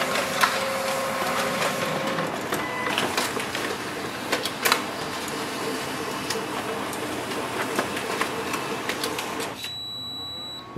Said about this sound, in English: The printer is really quick.